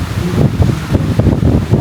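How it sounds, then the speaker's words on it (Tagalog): Strong gusts sweep across the Boracay beachfront during the August habagat monsoon, a steady, blustery rush with low rumbling buffets on the microphone and no voices. "Medyo malakas yung hangin ngayon, no?"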